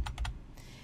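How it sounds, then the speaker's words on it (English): A computer keyboard's arrow keys are tapped three times in quick succession while nudging shapes in a Tinkercad design. The clicks are close and crisp, followed by quiet room tone. "And then I'm just using the arrow keys to nudge them where I want."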